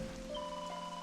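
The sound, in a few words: rain falling in video game Dragon Quest XI S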